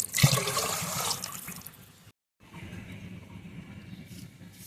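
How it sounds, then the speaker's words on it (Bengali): Water is poured into a cooking pot of chickpeas for pulao, a splashing gush that tapers off, pauses briefly, then resumes as softer trickling. "আমি 4 কাপ পানি দিয়ে দিচ্ছি।"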